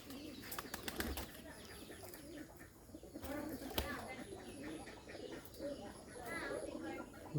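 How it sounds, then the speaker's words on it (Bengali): Bombay pigeons coo in soft, repeated rounds close by, with some wing flapping and faint chirps in a busy loft-like setting. "অনেক সুন্দর কবুতর ডাকে।"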